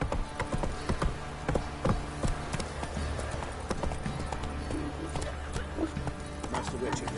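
Hooves of a galloping horse in The Witcher 3, a rapid rhythmic clatter over a dense game soundscape, with a voice speaking over it and a brief whinny-like call.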